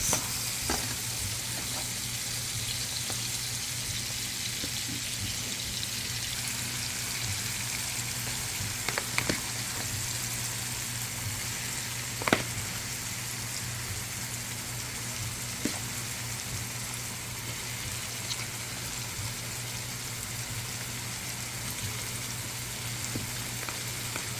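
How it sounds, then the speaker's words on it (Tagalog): Shrimp frying in a pan for monggo with alugbati, a steady close sizzle lasting throughout with occasional light scrapes and clinks of stirring. "Lagyan na natin ng ating shrimp."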